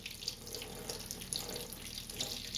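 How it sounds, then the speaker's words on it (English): Cold water runs from a tap over a small plastic model kit part, a steady splashing hiss close by with faint patters and drips. "now what we do is we just run some cold water over it"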